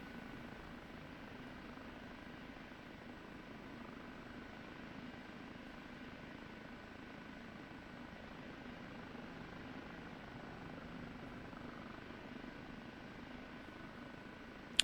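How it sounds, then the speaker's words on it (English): An OH-58D Kiowa Warrior helicopter in the DCS flight game gives a steady, low, even rotor and engine drone that holds unchanged for the whole stretch, faint and with no talk. "Probably the smoothest flying helicopter we've got in DCS now."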